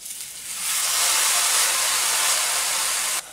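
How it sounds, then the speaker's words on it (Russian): Eggplant slices fry in hot vegetable oil in a pan over above-medium heat, a steady loud broadband sizzle that swells in after half a second and holds for about three seconds. "Обжариваем баклажаны по 2 минуты с каждой стороны."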